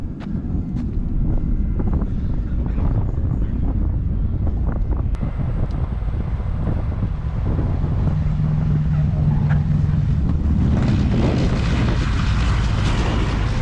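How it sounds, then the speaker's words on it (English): Corsair warbird approaching to land at the Stuart Air Show, a steady distant propeller-engine drone heavily buffeted by wind noise across the microphone, with no speech. "Corsair coming in."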